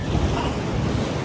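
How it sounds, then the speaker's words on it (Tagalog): Big ocean waves wash onto an Australian beach in a brief, dense roar of surf, with wind buffeting the microphone and no talking. "Big wave, so very big wave."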